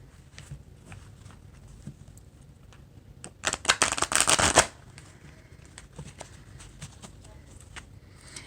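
Tarot cards riffle in a loud burst lasting about a second, surrounded by quieter scattered taps and handling sounds.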